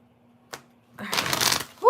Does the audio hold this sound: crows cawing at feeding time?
no